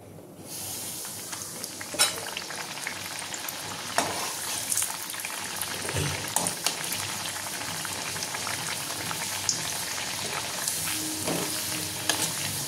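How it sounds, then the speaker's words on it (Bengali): Carrot kochuri fry in hot oil one by one, producing a loud, steady bubbling hiss with occasional soft knocks and splashes throughout, without any speech. "এবার আমি এগুলো একে একে ভেজে নেব।"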